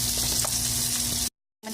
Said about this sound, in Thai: จากนั้นใส่ถั่วลงไปเลย ผัดพอมันสดนะคะ